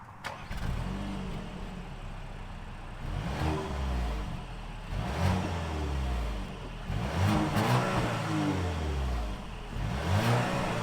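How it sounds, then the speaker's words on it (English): Start-up and repeated revving of the 2-liter turbo engine in a 2022 Audi Q5 S-Line Sportback SUV, with a steady engine drone and several rising throttle blips throughout. "that was of course the sound of the 2-liter turbo sold by Audi for this 2022 Q5 S-Line with the SportBack"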